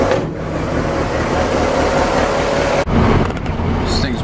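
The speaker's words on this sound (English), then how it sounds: "Now I'm gonna take it for a test drive." A 1995 DSM car with an automatic transmission and a transfer case that had been locking up, driven on a test drive: a steady, loud engine and road rumble from inside the cabin, continuous, with a brief dropout near the end before it resumes.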